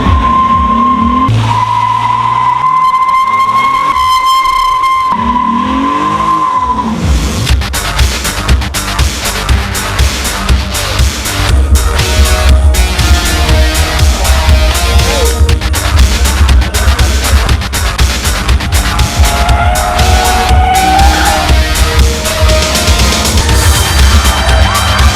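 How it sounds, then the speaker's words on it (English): Lexus IS 350 (2013) on hot laps with a professional driver, tires squealing and skidding loudly and continuously as the engine revs hard on a track, with a crowd faintly behind. "The Lexus team also spared no expenses with flying in professional race car driver and champion Yoshihiro Kataoka to come in and do hot laps with eager passengers inside the IS350"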